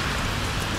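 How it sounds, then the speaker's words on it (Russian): Rain falls outside in a steady, dense hiss of drops on surfaces, loud and unbroken across the whole moment, with no voices. "дождик на улице"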